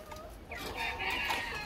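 Dutch crested hens and a single rooster cluck and call close by in a short, busy burst of overlapping fowl voices, with no talk.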